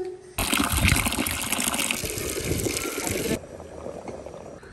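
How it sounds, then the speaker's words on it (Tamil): Water drained off boiled cowpeas pours out in a loud, steady gush for about three seconds, then drops to a softer trickle and dribble near the microphone. "தண்ணி வடித்து போட்டேன்."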